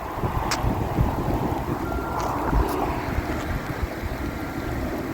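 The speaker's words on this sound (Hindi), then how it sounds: "बारिश जो है वो तेज़ हो गई है इस वक्त।" Steady hiss of heavy rain falling outdoors near a railway track by a road in Canada, with broadband wash, wind rumble and a few faint distant knocks.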